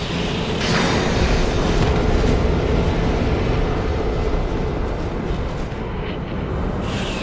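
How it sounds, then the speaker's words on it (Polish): Lightning spells striking a boss in Dark Souls 2: Scholar of the First Sin, a loud, continuous crackling rumble of impacts with no pauses and no voices. "Te błyskawice naprawdę ją łoją."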